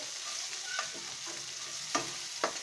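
Onions frying in a pan for a pointed gourd dish, a quiet continuous sizzle broken by a few spatula scrapes and light taps, no voices.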